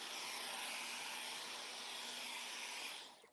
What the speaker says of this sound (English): This is kind of an expensive vacuum cleaner that my wife bought